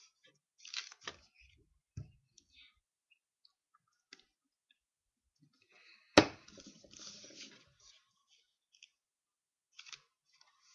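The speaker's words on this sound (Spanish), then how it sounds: "Y cortamos los sobrantes." Leftover excess material is snipped away while making a homemade compass, giving faint, sparse clicks and cuts with one sharper snip partway through, close but quiet with long silent stretches between.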